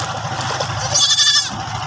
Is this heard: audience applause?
no